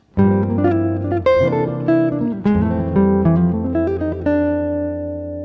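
A clean electric guitar plays a quick melodic run of single notes and brief chords, with a warm jazzy tone, alone and upfront.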